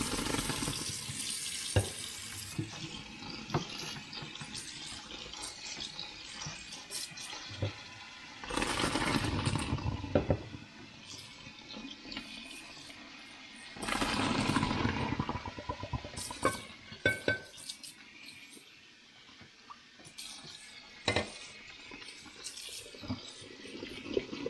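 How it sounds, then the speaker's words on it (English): Water runs and splashes into a kitchen sink as cooked spaetzle are drained like pasta, with louder gushing bursts and clattering metallic knocks from a colander or pot, close by. "we're going to go over to the sink and we're going to drain them just like you would a pasta"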